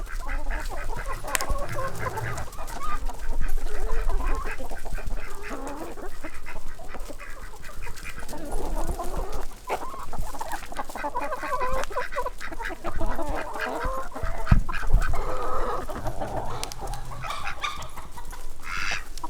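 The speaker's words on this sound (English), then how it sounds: "We got chickens galore." A large flock of about ninety hens in a homestead coop yard clucks and squawks continuously, a busy overlapping chorus with steady background noise throughout.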